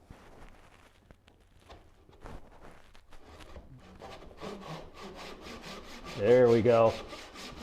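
A hand saw rasps through wood in a workshop, starting with light strokes and building into louder, faster back-and-forth cuts; a voice speaks briefly near the end.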